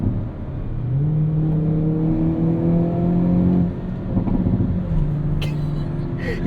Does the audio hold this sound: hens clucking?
no